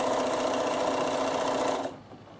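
Close up, a Bernina sewing machine fitted with a walking foot runs steadily while stitching a reversible vest, giving a fast, even mechanical whir that stops abruptly near the end.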